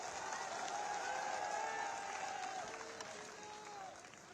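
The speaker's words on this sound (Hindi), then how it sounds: "ऐसे हमारे योगी आदित्यनाथ जी महाराज को जोरदार तालियों से हम स्वागत करें।" A crowd at a political rally in Chhatarpur, Madhya Pradesh, claps in steady applause, faint and distant, swelling slightly midway and then easing, with a few indistinct voices mixed in.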